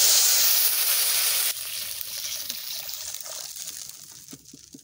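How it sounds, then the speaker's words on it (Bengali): Water splashed into hot frying oil already seasoned with cumin seeds and a torn bay leaf, oil left from frying fish: a loud hissing burst up front that drops to a softer steady sizzle and bubbling. "জিরা দিয়ে দিচ্ছি, একটা তেজপাতা চিড়ে দিয়ে দিচ্ছি, এটা জল দিয়ে দিচ্ছি।"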